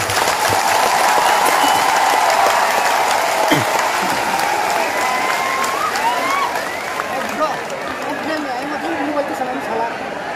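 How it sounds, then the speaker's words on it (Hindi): A large crowd at a public gathering breaks into loud, sustained applause and cheering, dense clapping that fills the space before easing slightly toward the end. "सबसे बड़ा ताली आपको होना चाहिए।"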